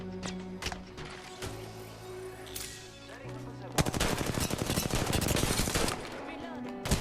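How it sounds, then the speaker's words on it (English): Apex Legends match gunfire: scattered single shots and mechanical clicks with game tones, then dense rapid automatic fire for several seconds, loud and close, with a few more shots trailing off. "Listen up, I'm getting shot at."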